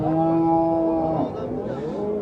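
Cattle at a livestock market low in a long, loud, close moo that rises and falls, with people talking around them.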